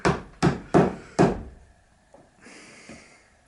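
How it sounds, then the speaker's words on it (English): Four sharp, loud hammer knocks drive a hinge into wood in quick succession, followed by a few softer scrapes and taps. "Just knock it in with the chisel or the hammer."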